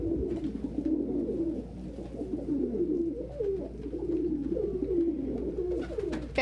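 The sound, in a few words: pigeons cooing in a loft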